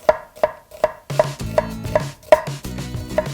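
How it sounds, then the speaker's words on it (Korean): A knife chops rapidly through an onion on a cutting board, cutting it into thin strips. Nine crisp, evenly spaced cuts sound up close, with no voices. "양파는 그냥 가볍게 채 썰어주시면 돼요."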